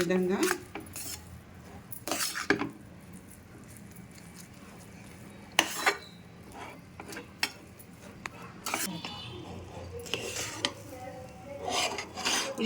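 A spoon stirs food colouring into rava kesari (semolina, sugar) in a pan, giving close metallic scrapes and clinks against the pan in irregular bursts over a soft background.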